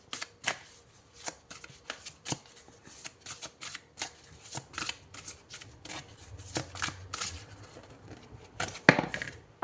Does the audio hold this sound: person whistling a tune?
no